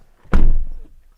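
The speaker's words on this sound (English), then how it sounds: "I get in, I shut the door, I put my hands on the wheel, bang." The driver's door of a 2022 Audi e-tron GT shuts with a single solid, close thunk that decays over about half a second.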